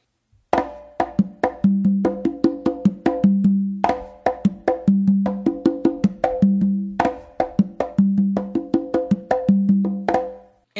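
Conga drums play a repeating bomba pattern: crisp slaps and open tones over low bass strokes, steady and lively, with no voices.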